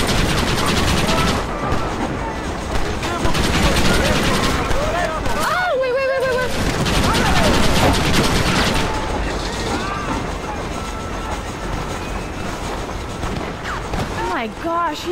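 Gunfire in the Western video game Red Dead Redemption, dense bursts of shots and rattling fire mixed with game effects, and people talking over the shooting.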